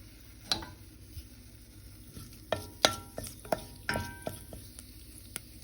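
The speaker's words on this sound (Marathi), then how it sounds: "तेजे उपरांत हांव रोखडोच ही करी पत्ता घालता करी लिव्स घालता." Curry leaves dropped into hot oil for a Goan black chana curry, giving a steady near crackle with several sharp popping bursts scattered through, no talking.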